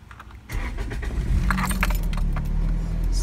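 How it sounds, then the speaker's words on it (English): A manual car being started with the key in a parking lot: keys jangle, then the engine catches about halfway through and settles into a steady close idle. "So there you've started your car."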